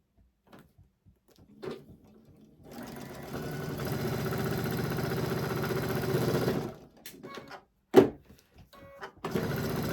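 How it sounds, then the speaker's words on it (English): A sewing machine stitches quilt blocks for pinwheel blocks in a steady, continuous run lasting about four seconds, with brief handling clicks and soft taps before and after. "we are just going to sew these right along"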